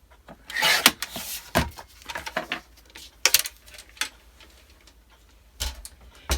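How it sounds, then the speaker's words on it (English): Scissors cut a strip from lightweight fabric for a pocket lining, several crisp snips and rustles coming in short bursts with pauses between, close and without voices. "I'm going to cut a strip of this at 2 inches"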